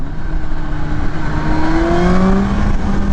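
A stock 2020 Kawasaki Ninja ZX14r motorcycle pulls hard under acceleration, its engine note climbing steadily in pitch through a gear, loud and close from the rider's position over constant wind rush.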